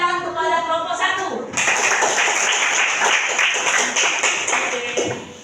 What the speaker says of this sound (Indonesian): silakan berikan dulu tepuk tangan kepada kelompok 1